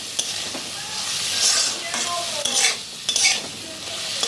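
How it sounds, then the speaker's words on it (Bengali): Ginger-garlic paste, salt and chopped tomato sizzle in a pan over low heat while a spoon stirs them, a steady close frying hiss broken by several scraping stirs in irregular bursts. "এখন আমি এগুলোকে সব একসঙ্গে মিশিয়ে ভালো করে একটু কষিয়ে নিচ্ছি।"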